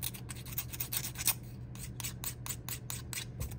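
An emery board rubbed across a small metal head pin to roughen it for crystal rhinestone work, making close, quiet, rapid back-and-forth scratching strokes in a steady rhythm, with no talking.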